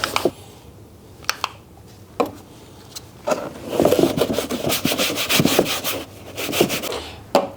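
A cloth wipes excess dressing off black interior trim, giving close, scratchy rubbing strokes with a few sharp clicks and a louder stretch of continuous rubbing midway.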